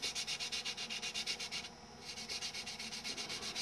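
A belt sander works over scratches on a workbench surface, a steady close abrasive rasp pulsing in quick even strokes, pausing briefly midway before resuming.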